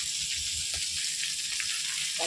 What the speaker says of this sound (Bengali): এই ফাঁকে আমার ভাজাটা হয়ে যাক আমি আর দু মিনিট পড়াইতেছি কাঁচা কলা আলুটা ভাজা